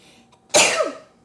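A single sharp, loud sneeze bursts out close by after a quiet moment and trails off within about half a second.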